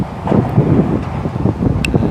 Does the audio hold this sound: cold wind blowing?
yes